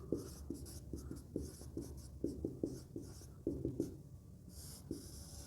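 Handwriting on paper while working through a class 12 math problem: quiet, close scratchy pen strokes come in short bursts and pauses, with no talking.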